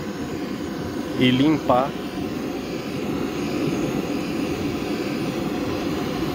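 Small engine from a KA 120 to FS 350 upgrade running steadily to burn off internal oil, a constant droning hum throughout while someone speaks briefly early on.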